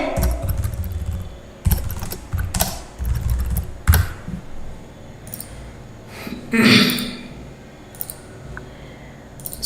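Python code being typed on a computer keyboard into a notebook code cell, with irregular clattering keystrokes mixed with low thumps and handling noise, fairly close and loud, alone without speech.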